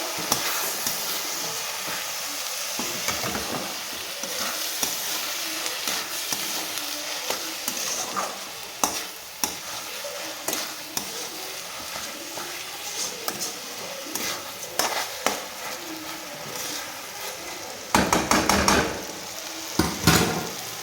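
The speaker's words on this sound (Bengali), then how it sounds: "এবার চালটাকে এবার ভালো করে ভেজে নেব, একটু ভালো করে ভাজতে হবে।" Rice fried in mustard oil in a pan for chicken tehari, a dense crackling sizzle with scraping strokes of stirring throughout, close and fairly loud, a louder burst of frying near the end.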